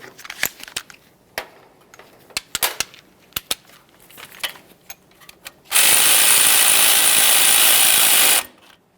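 A ratchet tightens an 8mm mounting bolt on a 2015-2020 Ford F-150 wheel hub. It gives a series of sharp, irregular metallic clicks, then a loud, steady rushing burst that lasts about three seconds.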